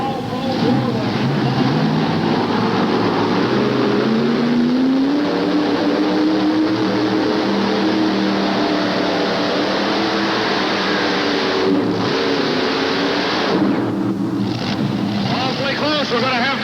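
A multi-engine pulling tractor running three engines roars continuously at high volume for a long stretch at a 1988 tractor pull in Charlotte, North Carolina, pitch rising and falling slightly, with some wind noise on the microphone.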